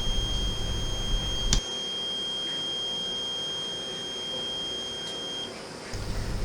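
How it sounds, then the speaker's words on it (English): An oil mist detector alarm on a ship's engine-room detector head sounds as a steady electronic tone, holding level for several seconds and then stopping, with loud machinery hum before and after and no talking. "Apart from hearing the alarm"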